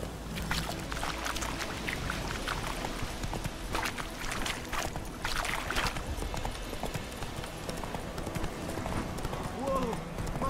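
Roach, a horse in The Witcher 3, gallops with steady clip-clop hoofbeats over continuous rushing ambient noise, while voices speak over the ride.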